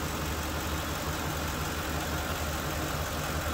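A car engine idles steadily right after a cranking start, with a low, even rumble and hum that holds constant throughout, close by and alone with no talking.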